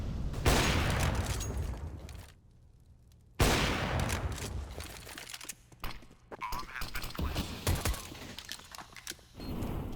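Counter-Strike gunfire bursts out loud and dense in repeated volleys, with a brief near-silent gap after about two seconds, then further shots and clicky mechanical handling sounds under faint voice.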